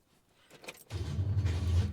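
Starter motor on a Holden HK cranking without the engine catching, a loud steady low whirring grind after a brief clunk and rattle, close by with no talking.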